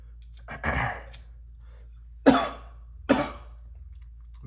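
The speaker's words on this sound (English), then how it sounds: "I'll apologize for all the coughing." A man coughs in a quiet room: a rough, drawn-out cough near the start, then two short, sharp coughs a little under a second apart, each close and loud against near silence.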